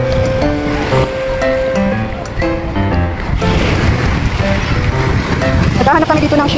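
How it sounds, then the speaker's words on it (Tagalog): Small, calm sea waves wash onto a beach in a steady broadband rush, with wind noise and people talking nearby. "tahimik ang dagat. Malit na ang alon."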